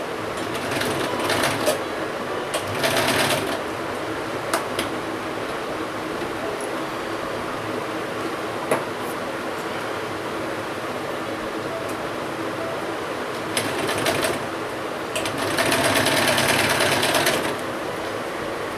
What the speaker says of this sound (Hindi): अब बाजू की साइड्स पकड़ के इसको सिलाई लगा लेंगे।